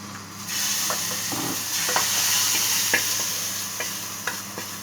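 Garlic fries in hot oil with a bright, steady sizzle, broken by light scraping taps of a spoon stirring the pan at close range.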